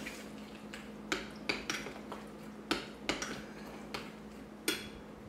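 Sriracha being mixed with a utensil in a bowl: a series of close, light clinks and scrapes against the bowl in an uneven rhythm, with soft wet stirring between them.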